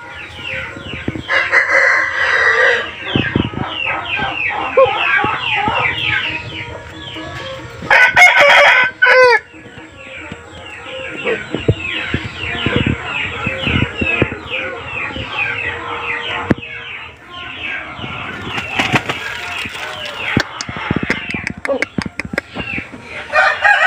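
A white rooster and others crow repeatedly amid clucking and general poultry noise, some calls loud and close, others more distant, with a voice speaking at times.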